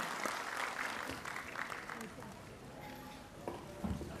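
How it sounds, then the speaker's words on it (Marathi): Scattered, fairly faint applause from an audience at a prize-giving event for a competitive exam, uneven clapping that thins out, with voices speaking over it. "तुमचा टाळ्यांचा आवाज कमी झाला"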